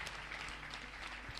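A church congregation clapping in acclaim of the Lord, a dense wash of many hands applauding together at moderate distance, steady for the whole short stretch.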